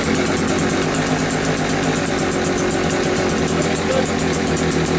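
A cheap Einhell generator engine runs loud and close with a steady, throbbing putter that holds throughout.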